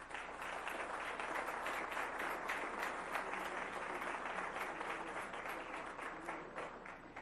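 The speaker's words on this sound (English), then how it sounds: "Let's give them a round of applause." An audience at a school board meeting breaks into steady, sustained applause, dense clapping heard at moderate distance with no talk over it.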